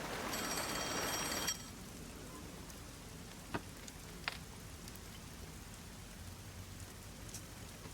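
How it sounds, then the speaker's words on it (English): A phone rings in the video game Rain Code: a brief bright electronic ring over heavy steady rain, then only the rain with a couple of faint clicks. "Oh, the phone. It's a call from the WDO."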